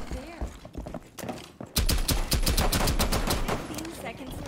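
Rapid automatic gunfire in a shooter video game, bursts of closely spaced loud shots that grow denser and more continuous partway through, with someone talking over the action.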